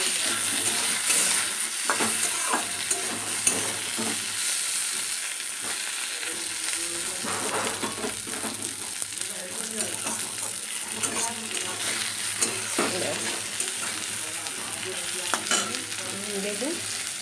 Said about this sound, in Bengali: আর বেগুনটা দিয়ে দিলাম, বেগুনটা ভেজে নেবো।